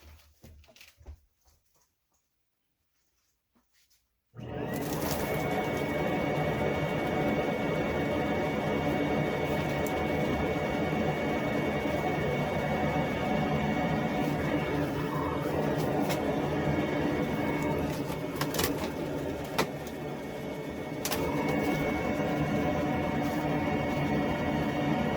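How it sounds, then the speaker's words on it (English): A shop vac blows air through a clothes dryer duct, a steady, loud broadband roar that starts abruptly after a few seconds of quiet and runs continuously to the end, with a few brief clunks along the way. "let's blow some vacuum air through this from the shop vac and see what comes out"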